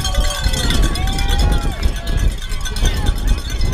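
Cowbells ring along the steep Mount Washington Auto Road running race course, rapid metallic clanks repeating throughout over crowd babble and wind, with people talking nearby.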